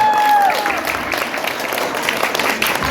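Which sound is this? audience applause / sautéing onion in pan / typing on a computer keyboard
audience applause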